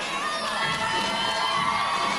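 A home crowd of friends, classmates and fellow athletes cheers a gymnast's routine at a 2002 NCAA meet in Kentucky's arena: dense, loud, continuous roaring and shouting with high-pitched young voices.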